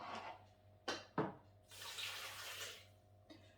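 Liquid vegetable broth poured into a Thermomix bowl over chopped peppers and smoked paprika, a soft close splashing pour lasting about two seconds after a couple of brief knocks.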